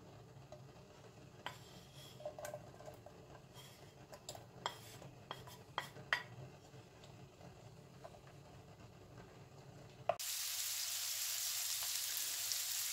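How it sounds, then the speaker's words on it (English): Quiet clinks of a utensil on a pan give way to a sudden loud, steady sizzle as bacon goes into melted butter in a frying pan and keeps hissing to the end. "And fry some bacon"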